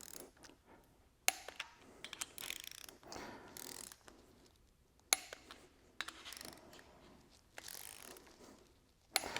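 Torque wrench clicking as it tightens the cylinder head studs on an MGB performance engine during a build, with sharp ratchet clicks and metallic taps spaced irregularly over quiet workshop background.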